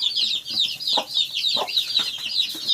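Small chickens clucking and chattering close by, a busy run of short, high calls with soft scratching underneath.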